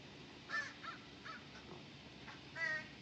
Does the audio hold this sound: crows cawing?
yes